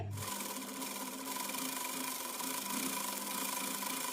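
A sewing machine runs steadily while stitching a semi patiala salwar, a close, continuous whirring hum with a fine rapid needle rhythm throughout, with no voices.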